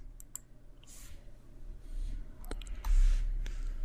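Faint, sparse computer mouse clicks, a few sharp isolated taps over quiet room hiss.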